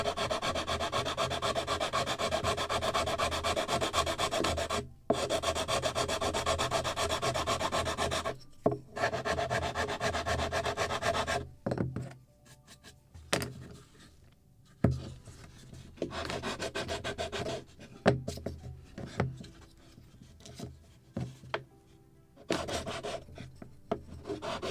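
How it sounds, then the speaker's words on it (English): Sandpaper rubbing along the wooden hull of a Midwest kit model Muscongus Bay lobster smack, steady rasping strokes in long runs, then shorter intermittent passes with brief pauses, close and loud. "I still have some gap here, so I need to sand this part more"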